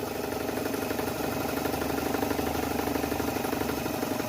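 A sewing machine stitches stretchy fabric for a scrunchie, a close, continuous rapid mechanical whirring hum with a fast even rhythm and no pauses.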